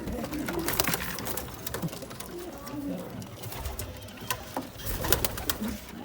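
Arab Bango pigeons cooing, soft repeated low coos close by with rustling and fluttering around them and a voice speaking at times.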